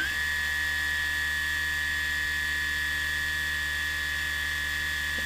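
A small motor on an Astro 3220 optical sensor test rig runs at 24 volts, spinning up briefly and then holding a steady, smooth electric whine with bright tonal hum, loud and continuous with no talk.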